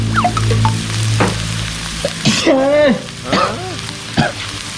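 Chinese kale and crispy pork stir-fried in a wok with oyster sauce, giving a steady sizzle with intermittent scrapes and clanks of the spatula and brief vocal sounds over it.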